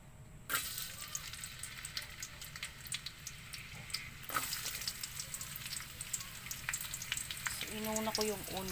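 Onion sizzles steadily in a hot pan for pork caldereta, a close, continuous frying hiss with a couple of louder bursts as pieces drop in and some faint clinks near the end.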